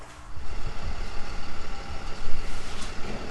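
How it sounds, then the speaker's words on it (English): A delivery truck pulls up and reverses, its heavy engine rumbling loudly and close throughout, with faint repeating backup beeps over the noise. "the truck done pulled up"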